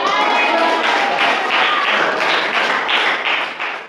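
An audience in a teacher-training class applauds after a group presentation, with dense, steady clapping that carries on at an even level and tails off at the end.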